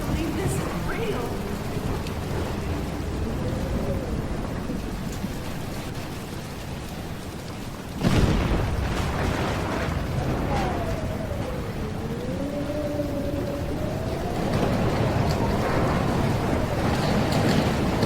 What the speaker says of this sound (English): into the eye of the storm